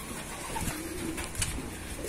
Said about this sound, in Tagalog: Itong ibon na ito.